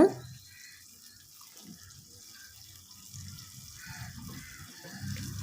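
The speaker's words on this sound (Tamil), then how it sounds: "கொஞ்சமாக தண்ணி சேர்த்துக்கிறேங்க." Water trickles and splashes into a pan of drumstick leaves with a low sizzling rumble underneath, steady and close, growing slightly louder toward the end.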